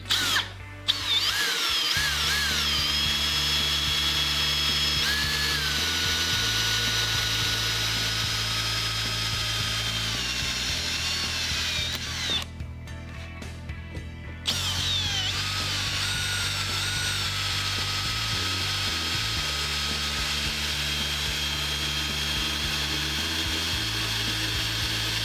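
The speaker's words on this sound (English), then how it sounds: "Slow down your drill bit so you're cutting really slow." A power drill bit cuts slowly through holes dabbed with cutting fluid while a pocket door track is built, giving a steady, close, whining drone with a short break partway through.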